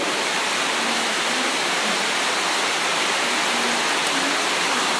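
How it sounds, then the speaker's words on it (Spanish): Heavy rain pours down in a dense, steady hiss that fills the whole stretch evenly, loud and close with no pauses and no voices. "Me había afligido porque está lloviendo y nuestra casa inundándose."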